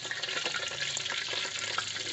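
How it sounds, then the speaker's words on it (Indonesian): Shallots sizzle and crackle steadily in a hot pan, a close, continuous frying hiss with faint stirring clicks underneath. "tumis dulu bawang merah"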